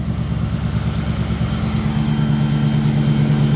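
Toyota 1UZ V8 engine idling steadily after a cooling system upgrade, a close, even low rumble that holds constant throughout with no voices.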